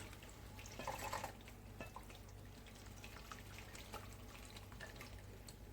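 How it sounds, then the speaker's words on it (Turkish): Hot water being poured into a pot of artichoke dolma, a faint splashing trickle that swells briefly early on, then settles into quiet drips and sloshing, no voices. "yaklaşık ağzına yakın olacak şekilde sıcak su hazırladım. Onu koyuyoruz"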